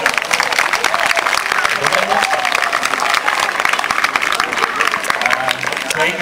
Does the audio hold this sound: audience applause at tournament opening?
yes